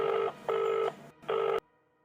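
A telephone call being placed: three steady electronic tone bursts with short gaps between them, loud and close, ending abruptly before a quiet line hum.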